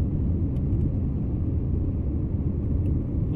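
Vehicles stuck in a road traffic jam stretching seven or eight kilometres make a steady, loud low engine rumble. The drone is continuous with no voices.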